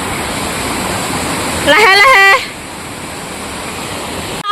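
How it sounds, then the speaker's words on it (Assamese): Langvoku waterfall in Karbi Anglong roars steadily, a broad, constant rush of falling water. A person speaks briefly over it midway, and a sharp click sounds near the end. "চাওঁচোন জলপ্ৰপাত আমি পাই গ'লোহি"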